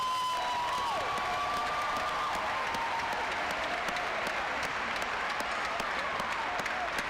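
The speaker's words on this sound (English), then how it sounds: "P-TECH students, please stand so we can give you a round of applause." Audience at a 2022 SUNY Broome commencement ceremony applauds P-TECH graduates, dense sustained clapping from a large crowd filling the hall steadily throughout, with faint cheering mixed in.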